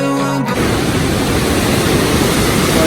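Fast-flowing mountain river rushing loudly near Kasol, a steady broadband roar of churning water that starts abruptly after a brief quieter moment and continues unbroken, with no talk over it.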